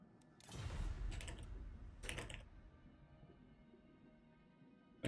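Typing on a computer keyboard comes in two quick flurries of close, soft clicks, then falls quiet.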